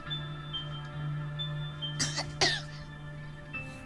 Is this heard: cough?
yes